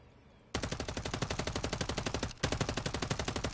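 Rapid automatic gunfire in a video game, a loud sustained burst of evenly spaced shots that breaks off for a moment and then resumes, fired through a wall at an unseen target.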